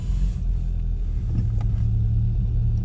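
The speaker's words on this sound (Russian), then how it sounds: "давайте заведем эту машинку после прошивки" A car engine starts up after an ECU firmware reflash and settles into a loud close idle with a low steady rumble and a slightly uneven beat; no voices.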